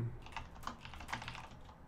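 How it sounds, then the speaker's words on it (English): Quiet clatter of typing on a computer keyboard, a quick irregular run of soft key taps, close but faint, with no talk. "now I'm typing to you"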